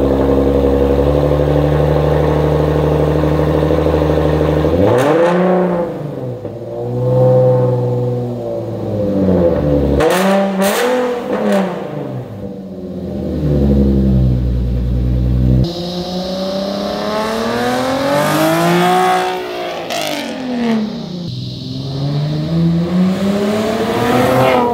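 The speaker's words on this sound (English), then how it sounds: "So right now, we're going to go ahead and do a cold start. We're going to get a few revs" Nissan 370Z with a VQ engine starting cold and being revved, several rising and falling rev sweeps from a loud idle, heard close with no talk.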